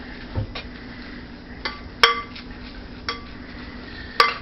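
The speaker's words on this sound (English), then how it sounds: "Then you're going to stir it in there." Spoon stirring seasonings into a mixture in a bowl, producing several light clinks and scrapes at irregular intervals, close and moderately loud with no talking.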